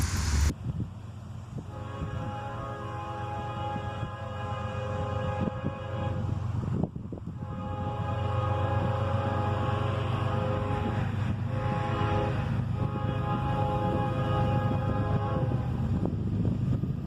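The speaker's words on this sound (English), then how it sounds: "I only had to wait a short time before this first southbound train arrived." A southbound CSX freight train led by an ES44DC and an AC44CW in YN2 paint arrives at night: a loud sustained horn with rich harmonic tones sounds over a steady low engine rumble, with a brief break in the middle.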